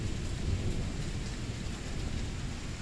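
A nighttime thunderstorm rolls through, with heavy rain pouring steadily and a low continuous thunder rumble filling the background, loud and unbroken with no talking.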